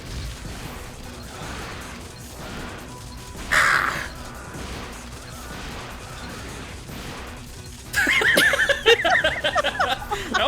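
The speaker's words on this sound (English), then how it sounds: "Birds!" Crows in a video game give harsh caws in two bursts, a short one early and a louder cluster near the end, over quiet game background sound.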